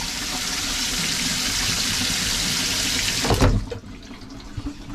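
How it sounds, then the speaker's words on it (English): A newly plumbed toilet in a converted plane flushes with a loud, steady rush of water that cuts off abruptly after a few seconds, leaving gurgles and drips, with no talking. "Yeah, flush those, nice. Super powerful flush."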